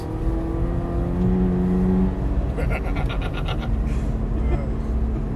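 A race car accelerating hard out of a corner on the Hallett track, its engine droning loudly from inside the cabin and rising in pitch, with a brief pulse of tire and drivetrain noise partway through.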